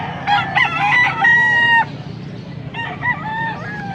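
Roosters crow in two loud, close calls separated by a short pause, with clucking fowl nearby at a poultry market.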